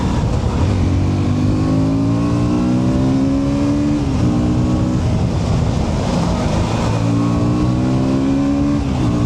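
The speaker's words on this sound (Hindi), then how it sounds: "अच्छी आवाज़ भी है बाइक की, अगर आपको सुनना है तो मैं ट्राई करता हूँ सुनाने की" A loud KTM Duke 160 motorcycle engine revs repeatedly close up, its pitch climbing and dropping in waves over a steady roar.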